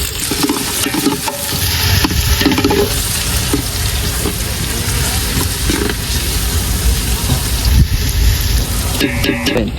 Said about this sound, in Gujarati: હાલો આવી ગઈ છે ડુંગળી.